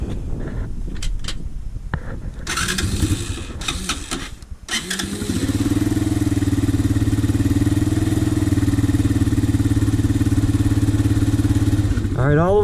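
A Honda TRX 125 ATV engine starts with some sputtering and catches, then settles into a steady, loud idle as it warms up, running close by for several seconds before a brief rev near the end.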